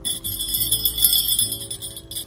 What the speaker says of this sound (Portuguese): E um sininho de Natal.